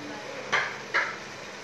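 Chicken meat dropped into a pan of well-cooked spices for a spicy chicken biryani, two short close thumps and scrapes of pieces landing, with a soft sizzle underneath.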